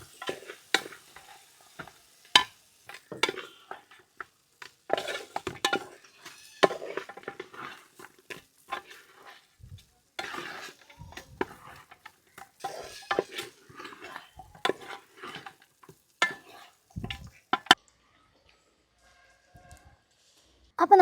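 Sardine pickle being stirred in a pan, with scattered scraping and clinking of a spoon against metal in short bursts, fairly close and moderately quiet, ending in near silence.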